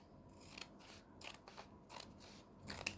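Scissors trimming a stitched paper scrap for a collage: a quiet series of soft, crisp snips at an uneven pace, close and faint, with no talk.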